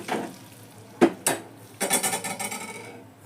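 Tempering and curry leaves being stirred into bottle gourd sambar in a pot, with a sharp sizzling hiss and a few metal clinks of a spoon against the vessel, close and without talk.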